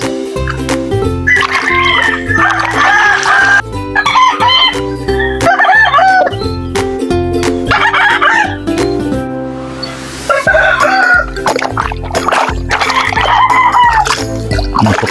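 Tethered chickens cluck and roosters crow repeatedly at close range, a busy, continuous farmyard chorus with water splashing and no speech.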